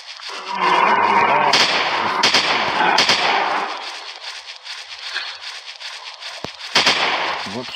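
Gunshots ring out in a mobile dinosaur-hunting shooter game: a few sharp cracks with decaying tails over a dense noisy bed, then quieter stretches and another close shot near the end, with a voice speaking briefly.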